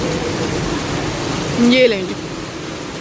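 Heavy rain pours in a steady, loud wash of noise while a person speaks briefly partway through.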